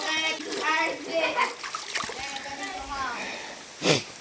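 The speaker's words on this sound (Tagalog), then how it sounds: "Hugas lang ako ng kamay." Hands splash and rub in cold mountain water beside a Toyota Fortuner, with short close splatters and a sharp splash near the end, under casual talk.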